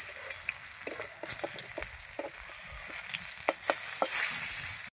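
Pieces of pointed gourd (potol) frying in hot oil, a steady close hiss of sizzling with scattered pops and light spatula scrapes, the sizzle swelling briefly louder near the end before cutting off.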